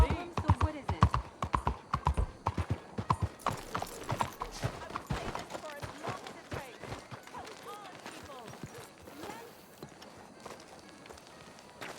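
Horse hooves clip-clop in a brisk, rhythmic run in the video game Red Dead Redemption 2, loud and close at first, then fading to softer steps as characters talk over them.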